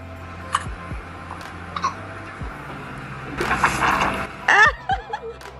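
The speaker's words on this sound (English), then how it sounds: "Little Miss has the hiccups." A newborn baby hiccups several times, short sharp squeaky catches spaced about a second apart, close and clear, with a brief burst of rustling noise between them.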